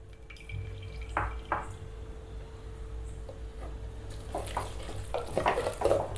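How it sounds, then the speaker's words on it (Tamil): A spoon stirring water into mashed mochai kuzhambu, a bean curry, in a pot: soft scraping strokes and wet clinks, faint at first and growing busier and louder toward the end, with no talking. "தண்ணி சேர்த்து நல்லா மிக்ஸ் பண்ணி விட்டு கொதிக்க விடுங்க"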